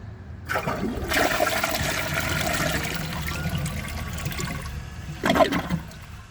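A close flush of a 2017 Sterling Windham toilet, short-flush setting, rushes and gurgles for several seconds, followed by a brief second surge of draining water.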